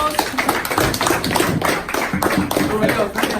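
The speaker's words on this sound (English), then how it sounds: "give it a round of applause" A group gives a round of applause at a fitness session. Dense, steady hand clapping runs loud and close throughout.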